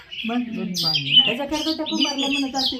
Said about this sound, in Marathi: चिमल्यांचा पण आवाज बघा कसला किलबिलाट सुटलाय तिकडं